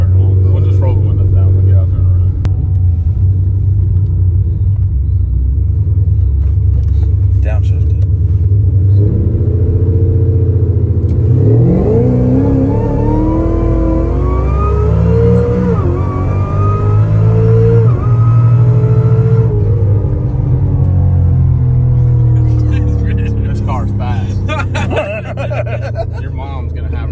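A new Cadillac street car's engine rumbles deep and loud at close range, climbing through a long rev and easing back, while people talk and laugh over it.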